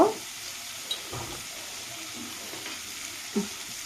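Fish roe fries in a pan while a spoon stirs it, producing a soft continuous sizzle broken by a few scraping clinks near the start and toward the end.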